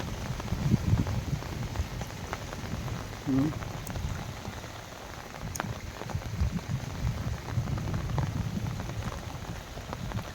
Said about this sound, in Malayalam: ഇന്നലെ രാവിലെ കാലത്തോട്ട് പെയ്ത മഴയാണ് ഇതുവരെ തോർന്നിട്ടില്ല